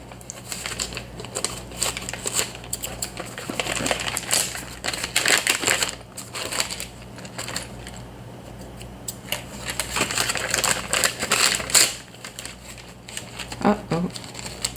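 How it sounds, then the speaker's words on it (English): Crunchy, irregular snips of new scissors cutting through material in a crochet and yarn setting, close and fairly loud in bursts, with quiet gaps between strokes. "I should be using my new scissors."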